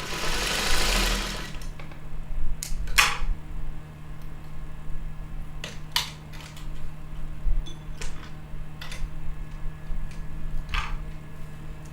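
A sewing machine stitching quilt pieces: a loud opening run of rapid stitching, then intermittent clacks and short bursts over a low steady hum, heard up close without any talk.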